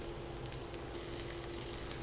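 Ginger garlic paste sizzles in hot oil with fried onions, a soft, even crackling hiss heard up close and faint, with no voices.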